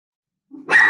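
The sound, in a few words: dog barking in the background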